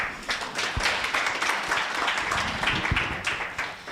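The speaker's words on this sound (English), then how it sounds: "A hand of applause, please." Applause from a gala audience marking the Clinical Research Society of Kenya's second anniversary: steady, dense clapping at moderate level that carries on for the whole stretch, with no voices over it.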